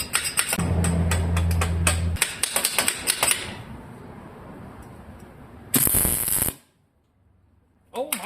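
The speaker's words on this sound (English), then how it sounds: "we're going to go ahead and bust out the welder and get the top tube tacked in" A steel BMX bike top tube is tack welded in a series of rapid, loud crackling bursts, followed by a short hiss and scattered clanks, with some talk in between.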